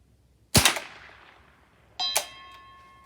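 A rifle shot rings out on a steel target at about 300 yards: a sharp crack with a decaying tail, then a second metallic clang with a ringing, tonal ring-off about a second and a half later, no talking.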